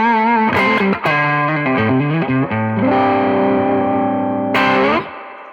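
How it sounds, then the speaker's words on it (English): Electric guitar played through a Tube Screamer overdrive pedal for a solo, giving a driven, mid-pushed tone; loud sustained bent notes and held chords ring out over several seconds, ending with a brief bright burst, with no talking. "when I go to take a solo, I'll turn on the tube screamer and it works great."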